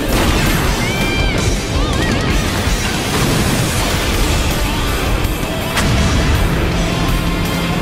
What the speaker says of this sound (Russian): Плохо дело. Ядра взрываются!